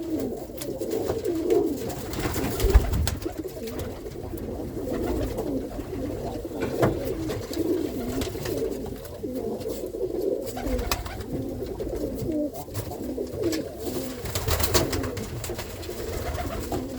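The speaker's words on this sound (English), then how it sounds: "And look at the condition on them pigeons." Tumbler pigeon cocks in an old-school Irish loft coo in soft, repeated rolling phrases, several birds overlapping continuously at close range with low rustling and no speech.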